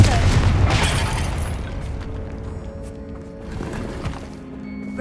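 A Confringo blasting spell in Hogwarts Legacy sets off a loud, booming burst that decays into rumbling debris, with a spoken voice over the blast.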